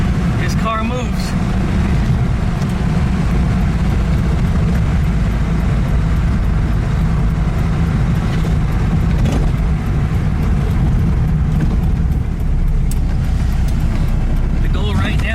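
A VW Type 3 with a freshly worked engine rumbles continuously while driving, a low steady drone heard from inside the car, with a person talking over it.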